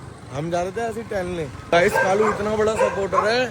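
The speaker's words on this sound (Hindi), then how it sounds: "सारे कुत्ते भौंक रहे" Several street dogs bark and yip during a walk, loud and close, mixed with whimpering, while people talk over them throughout.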